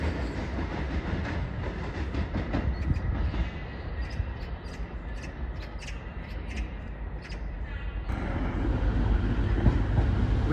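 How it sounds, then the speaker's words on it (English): A Class 185 TransPennine Express train passes through Stockport station as a steady, loud rumble with rhythmic clickety-clack of wheels over rail joints, and the tone shifts near the end as the carriages go by. "185 and it's a Trans-Pennine Express"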